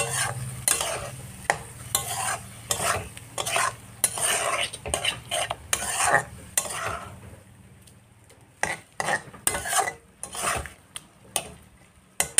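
Masala being sautéed and stirred in a pan: a soft sizzle under rapid, repeated clinks and scrapes of a spoon against the pan, close by, with a brief lull before the stirring resumes.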